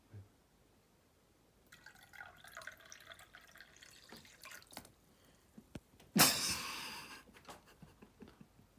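Water from the bottom of a dusty carafe poured in a kitchen, a thin trickling stream with small drips and splashes, then a sudden louder splash that fades, close and alone with no talk.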